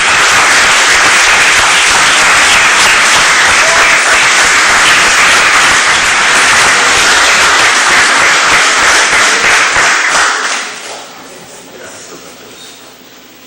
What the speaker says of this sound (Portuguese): Vamos dar mais uma linda salva de palmas para o Criador.